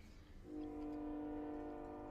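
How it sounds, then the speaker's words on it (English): Horn of a passing train sounds as one long, steady, sustained honk, fairly faint and distant, starting after a moment of quiet rumble. "Train's gonna honk every time I start speaking."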